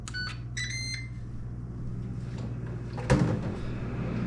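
An air fryer is set to air fry chicken tenders: a short run of electronic beeps, then a soft thunk, and a low, steady fan hum.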